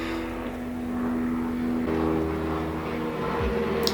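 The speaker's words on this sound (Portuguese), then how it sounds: "Tem um avião passando" A propeller airplane passing overhead, a steady droning engine hum whose pitch shifts midway, continuous and moderately loud in the background.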